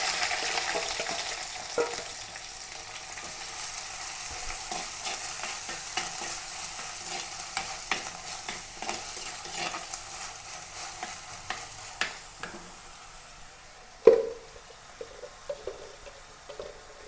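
Crushed onion, garlic, ginger and green chilies fry and get stirred in a pan, a steady sizzle with scraping stirs throughout and a sharper clatter near the end.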